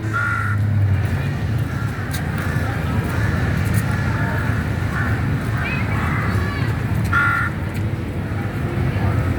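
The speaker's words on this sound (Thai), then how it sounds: "นี่เต็ม กาเพียบเลยนะเพื่อนที่สวนโลวินีนาตนะครับ" Crows caw in Romaninat Park in Thailand, giving a few harsh calls at intervals over a steady wash of outdoor background noise.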